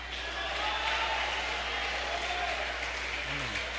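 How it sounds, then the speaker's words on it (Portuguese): A church congregation applauds loudly and steadily throughout, a continuous wash of clapping over a low hum with no break in the sound. "Vamos aplaudir o Senhor bem forte"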